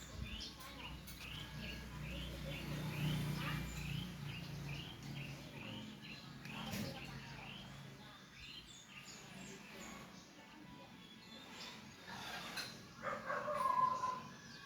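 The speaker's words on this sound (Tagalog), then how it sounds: "Confirm po na sisiw ng ibon." Small bird chicks calling from a pomelo tree in a rural provincial setting, a series of faint high repeated chirps running through the clip over steady outdoor background noise.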